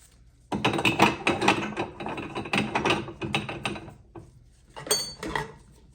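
Metal parts of a VEVOR 1100-watt meat grinder clank and scrape as the auger is fitted into its housing, a close, busy run of knocks and rattles with a short pause before a final burst.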